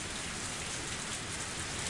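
Steady rain falls in the Higurashi visual novel game, a dense, even hiss of drops on surfaces that holds at a constant level throughout, with no voices.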